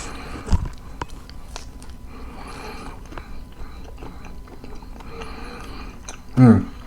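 Soft, close-up chewing and biting of BBQ pizza with onion, a louder crunchy bite near the end, faint background noise throughout.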